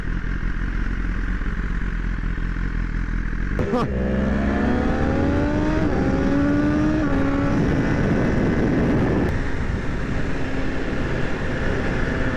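A new motorcycle accelerates hard through the gears past 8000 rpm, its engine note rising in pitch several times with brief shifts between pulls, loud and close over a steady rush of wind.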